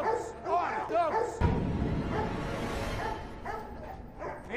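Dogs bark and yip in short bursts, with a loud harsh outburst partway through, all mixed under a voice talking over them.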